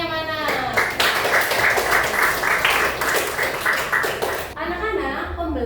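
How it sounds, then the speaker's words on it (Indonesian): A class of schoolchildren claps together after a lesson on the rice-field food chain, a loud rhythmic burst of many small hands, with children's voices and chatter mixed in before it fades out. "Tepuk tangannya mana?"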